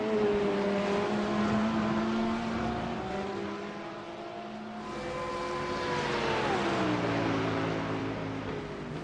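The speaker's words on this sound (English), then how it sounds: "Mike definitely having to use more of the runoff of the track in the Corvette than the Porsche has to" GT3 race cars, a Corvette and a Porsche, roar past at the Brands Hatch circuit, engine notes sliding up and down through gear changes as loud, sustained passes with no talking.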